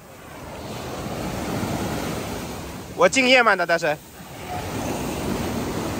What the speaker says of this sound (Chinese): 我等一个海浪过来啊，等一下我再等这个浪过来